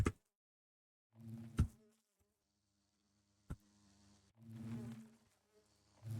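Buzzing bees inside the Minecraft modpack All The Mods 9, heard as a soft, steady drone under short bursts of other game noises and a few sharp clicks.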